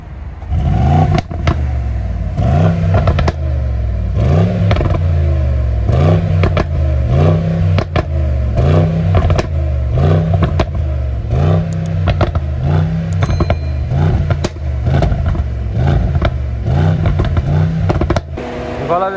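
A 2021 Mercedes-AMG GLE63s with its 612 hp V8 and exhaust valve open revs hard again and again, a loud, close, rhythmic roar with crackles and pops between the blips, heard alone.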